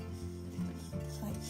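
Cheesecake biscuit base scraped around a tin, soft rubbing and scraping strokes, close and quiet, a few short passes.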